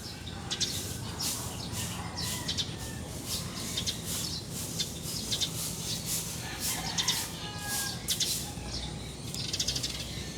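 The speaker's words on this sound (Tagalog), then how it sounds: "ang sarap pakinggan ng mga huni ng ibon" Outdoor birdsong at a bahay kubo with repeated high chirps and calls over a steady background, including clucking fowl and an occasional distant rooster crow.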